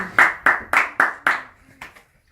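Applause at a church service, heard as five loud, evenly spaced claps close to the listener, followed by a couple of fainter ones before it falls silent.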